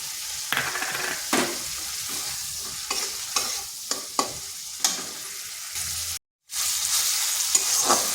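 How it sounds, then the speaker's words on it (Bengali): Spices and tomato sizzle and fry in oil in a wok with a steady hiss, broken by scraping stirs of a spatula against the pan and a brief pause near the end. "মশলাটা খুব ভালোভাবে কষে নিয়েছি আর দেখুন কড়াই থেকে তেল ছেড়ে যাচ্ছে"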